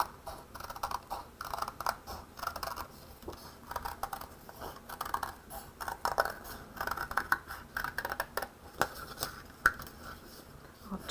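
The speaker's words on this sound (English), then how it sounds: "Then we can use our scissors to cut." Scissors cut paper in a series of close, crisp snips and rustles, irregular in rhythm, with no speech over them.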